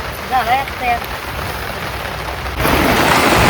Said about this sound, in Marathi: पाऊस तर वाढलाय